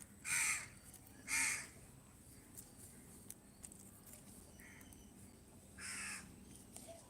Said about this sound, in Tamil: அச்சோ காக்கா அவளோட குட்டிக்கு போய் ஊட்டி விடுறா